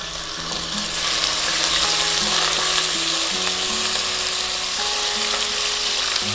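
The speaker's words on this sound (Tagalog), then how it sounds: "Unahin natin na stir fry yung ating beef." Beef stir-frying in hot oil in a cooking pot, a loud continuous sizzle and crackle filling the sound, close and without speech.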